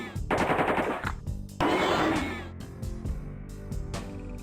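Sustained AK-47 automatic gunfire in a shooter video game, two loud close bursts of rapid shots, followed by quieter scattered shots and clatter.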